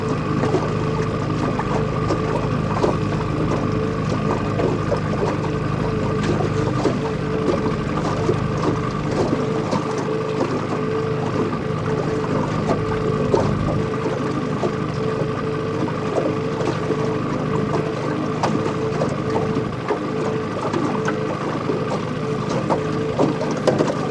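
A salmon-fishing boat's motor drones steadily and loudly throughout, mixed with wind buffeting and water noise, with no pauses.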